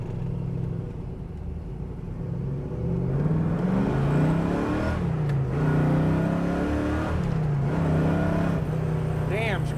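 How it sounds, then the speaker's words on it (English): A 1970 Chevrolet Chevelle fitted with a Flowmaster exhaust accelerates hard from a stop, its engine note climbing loud and close through the gears, with people talking inside the car. "Good muscle car sound."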